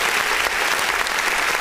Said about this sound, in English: let's give another round of applause to that.